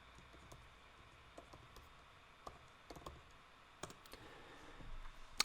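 Clicking keystrokes on a computer keyboard as a single word is entered, scattered irregular taps and short bursts, fairly faint and close over a quiet background hiss, with no one talking.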